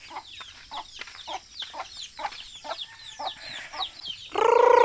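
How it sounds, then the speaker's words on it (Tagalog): Chickens cluck in quick repeated bursts close by, ending with a louder, sustained squawk. "Pakainin ko yung manok namin."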